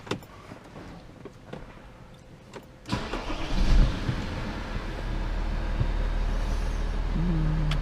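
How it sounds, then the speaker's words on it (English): Blower fan of an Audi A6 3.0 TDI manual Quattro starting up inside the car: soft clicks first, then a steady rushing airflow that builds and holds, close and moderately loud, with no talk. "Blower is working."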